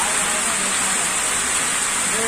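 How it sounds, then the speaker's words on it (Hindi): Steady, dense rainfall hisses continuously with no letup, loud and enveloping, with faint distant sounds beneath. "लगातार ही बारिश हो रही है"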